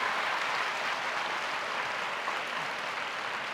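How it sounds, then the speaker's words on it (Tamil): Students packed into a full school hall applaud in a dense, continuous wash of clapping that holds steady throughout with no breaks. "நான் உள்ளே நுழைகிற போதே அரங்கு நிறைந்த கைத்தட்டல்களோடு வரவேற்றவர்கள்"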